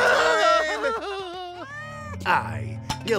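A cartoon cat gives several drawn-out, wavering meows in a children's animated show, loud and close, with characters talking over and around the cries.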